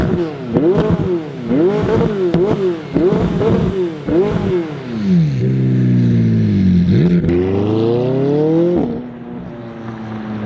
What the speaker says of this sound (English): So not only does this car sound absolutely insane, but it gets up and goes